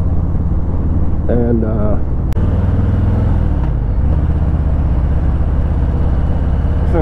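A 2019 Harley-Davidson Breakout FXBRS 114 motorcycle rides on a highway, a loud, steady engine drone with a brief rise in pitch during a gear shift, while a rider talks over it.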